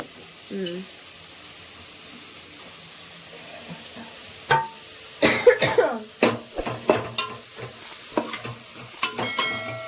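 Grated coconut and coriander are stirred in a hot pan, faint at first, then a burst of frying from about five seconds with quick utensil scrapes and knocks. A brief cough or voice sound comes early on.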